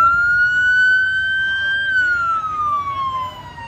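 An emergency siren wails on a highway where a taxi driver was shot. It holds a steady tone and then slowly falls in pitch, loud and fairly close, with no talk over it.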